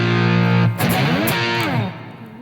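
An electric guitar with distortion plays a shuffle riff, a sustained, gritty, harmonically rich chord that sustains loudly and then slides through bending notes before fading slightly.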